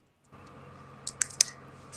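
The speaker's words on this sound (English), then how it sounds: "Sorry, I can hear somebody typing." Keyboard typing heard during an online call: a few quiet, scattered key clicks over a soft background hum, faint and distant.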